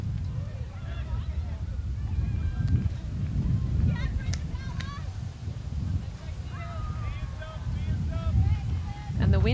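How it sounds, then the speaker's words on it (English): Gusty wind buffets the microphone at an outdoor women's ultimate frisbee field with tents set up, a heavy low rumble that rises and falls throughout while voices call out faintly in the background. "And the wind is back."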